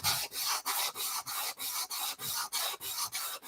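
Sandpaper rubs across the grain of a wooden model plane in about thirteen even back-and-forth strokes, a close, steady rasping rhythm with no talk.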